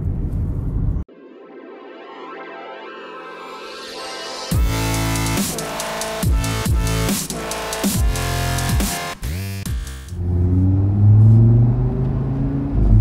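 A 2018 Audi RS3 driving, with a low engine drone that rises into loud, rapid gear-change revving bursts, then settles back into a deep steady rumble.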